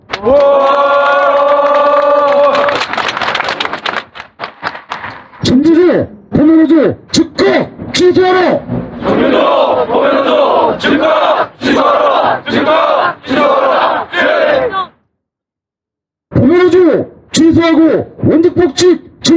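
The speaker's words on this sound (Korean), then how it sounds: "동지들의 힘찬 함성과 박수로 시작하겠습니다" A crowd at a Korean teachers' union labor protest rally shouts together in bursts, rising cheers with scattered clapping, loud and close, with a brief pause before more shouting.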